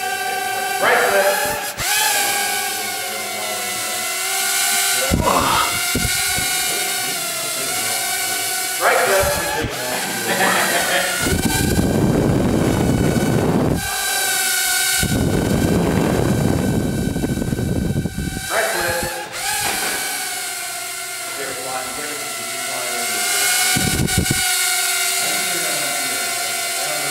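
A UDI U927 3D quadcopter drone in flight, its high whining motors droning steadily and surging with throttle, broken by brief gaps and harsher bursts, with voices talking over it.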